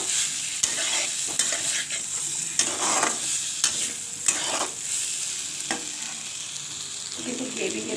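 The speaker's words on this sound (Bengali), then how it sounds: "এরপর আমি আদার পেস্টটা দিয়ে দিলাম।" Ginger paste sizzles steadily in a hot pan for a coconut-milk egg and potato curry, with repeated scraping stirs of a spoon cutting through the continuous close frying hiss.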